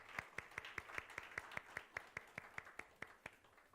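A church congregation claps together in a steady, even rhythm of sharp hand claps during a Sunday morning service, moderately loud and without talk.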